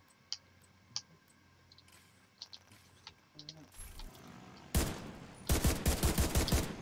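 Rifle fire in a video game, with sparse clicks and mechanical handling early on, then a loud close burst of several sharp shots near the end.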